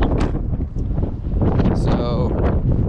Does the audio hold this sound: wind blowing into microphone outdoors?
yes